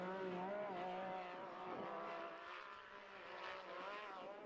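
A Can-Am off-road race vehicle engine roars loud and continuous at an off-road shell race, its pitch rising and falling as the throttle changes, with one quick downward swoop partway through.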